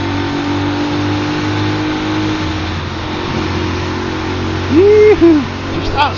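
A Norton Commando 961 Sport motorcycle engine pulling hard under acceleration, a loud, steady droning roar with wind rush, and a brief whoop of a voice rising over it near the end.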